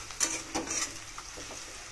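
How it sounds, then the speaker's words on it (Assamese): Turmeric, salt, cumin powder, coriander powder and Kashmiri red chili powder frying in oil, a soft close sizzle with a few stirring scrapes and clinks across two seconds; no voices. "হালধি নিমখ জিৰা পাউডাৰ ধনিয়া পাউডাৰ আৰু কাশ্মীৰী লাল মিৰ্চি পাউডাৰ অলপ দি দিছো ইয়াতে এতিয়া এইখিনি অলপমান ভাজি ল'ম"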